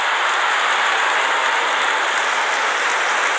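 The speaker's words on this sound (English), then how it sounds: "Wonderful 50 and the crowd applauds." A stadium crowd at an India versus Australia T20 cricket match applauds a batsman's fifty, a steady, dense wash of clapping that holds at full strength throughout with no voices on top.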